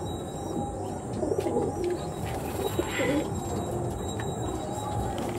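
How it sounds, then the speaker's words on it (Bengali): Andhra and Chennai breed pigeons coo softly in a few low, rolling calls over a constant murmur of background noise, with other birds chirping faintly. "খুব সুন্দর সুন্দর কোয়ালিটির পায়রা"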